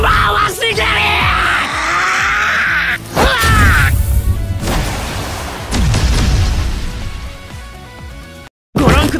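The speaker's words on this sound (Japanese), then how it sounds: "ご覧ください、ものすごい爆発です。" A loud booming explosion with crackling debris in the mobile game One Punch Man: Road to Hero/Magi Fight, amid game-style effects and shouts, followed by more thuds and a brief silence before sound resumes.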